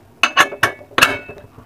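A metal lid settles onto a cooking pot of Bisi Bele Bath, giving four or five quick, bright clinks and rattles close by, with the final knock the loudest before it falls quiet.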